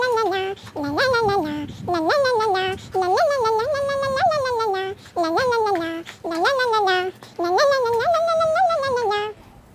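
A cat meows repeatedly at close range, a series of loud drawn-out cries in quick succession with faint room noise beneath.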